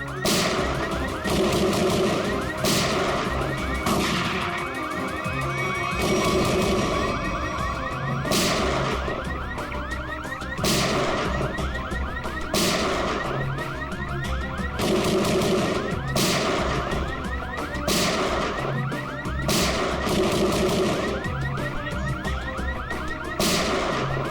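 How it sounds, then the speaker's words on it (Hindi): A loud shocker alarm fires in sharp, repeating bursts like gunshots, spaced roughly every second or two over a steady electronic tone, with no talking. "ये गोली कहां से चल रही? ये तो कोई अलार्म लगता है, शॉकर अलार्म।"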